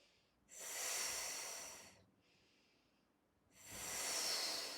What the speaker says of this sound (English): exhaling through the mouth.